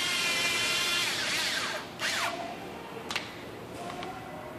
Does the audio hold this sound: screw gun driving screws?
yes